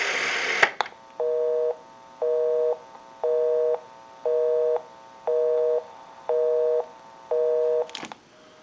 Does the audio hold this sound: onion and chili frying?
no